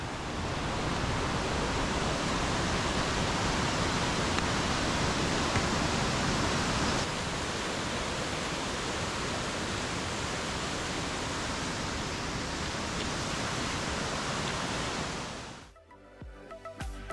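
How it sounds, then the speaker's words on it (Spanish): The Taranes river in a rocky gorge rushes loudly beneath a bridge, a steady dense roar of water. It fades abruptly near the end as the walker moves on. "Y cruzamos puente sobre el río Taranes."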